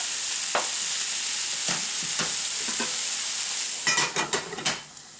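Onions tossed over hamburger and potatoes sizzle steadily in a hot pan, with a few soft stirring scrapes. A quick burst of louder clattering stirring comes near the end before the sound fades.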